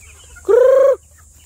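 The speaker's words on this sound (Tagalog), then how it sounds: "paparating pa yung isang manok na inahin" One short, loud, nasal cluck from a nearby hen, about half a second long, standing alone against quiet background.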